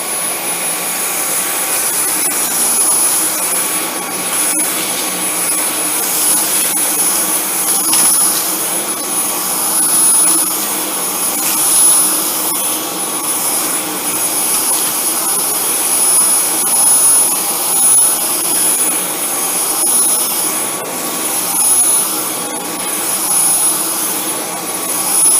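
A Dyson V10 cordless vacuum cleaner runs on medium power, making a loud, steady high-pitched whine with a faint rising and falling roar as it is pushed across the floor.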